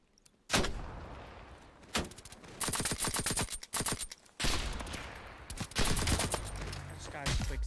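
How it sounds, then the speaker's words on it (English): Rapid bursts of automatic gunfire in a Call of Duty Cold War 2v2 Search and Destroy match, loud clustered volleys separated by brief gaps, with a voice talking faintly underneath. "I shot at him"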